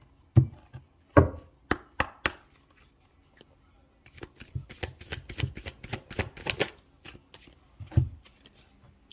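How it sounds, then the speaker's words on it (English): Tarot cards shuffled by hand, first a few separate sharp slaps and riffles, then a quick rattling run of snapping card sounds, close and crisp, with no talking over them. "Let me get you an advice card"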